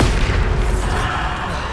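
Bombarda explosion spell cast in the video game Hogwarts Legacy, a loud deep boom with a rumbling low-end tail that fills the whole moment without talk.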